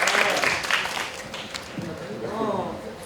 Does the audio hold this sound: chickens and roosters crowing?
no